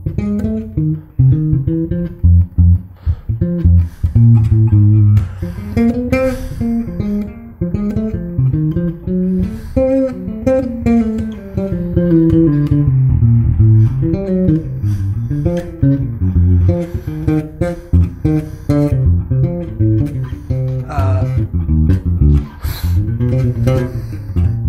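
Bass guitar solos over an F blues progression, a continuous run of plucked notes moving through the low range with some higher phrases, played steadily and up front for the whole stretch.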